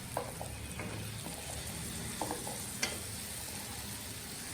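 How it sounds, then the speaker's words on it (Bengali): Dried churi fish (shutki) fries in oil with spices, a faint steady sizzle broken by a few soft clicks of stirring. "এখন হচ্ছে আমি শুটকিটা ভুনা করে নেবো, একটু দিয়ে কষিয়ে নেব।"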